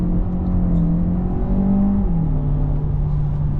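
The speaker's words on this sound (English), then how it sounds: "we turn off the start stop, we have some traction control off, depress the brake and put on the gas" A 2023 Audi Q3 Sportback PHEV revs against the brake with traction control off, a loud, steady engine drone holding a low tone that swells briefly and then settles slightly lower, with no talking.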